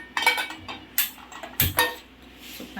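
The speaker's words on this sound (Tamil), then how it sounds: "ஸோ இப்போ ஒரு பேன் வச்சிடலாம் ஸ்டோவ்ல" A pan is set on the stove while making sohan halwa, a few close metallic clanks and clinks in quick bursts followed by quieter handling.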